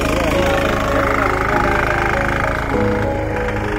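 A tractor engine running steadily nearby, a loud continuous rumbling drone with a slight knock throughout.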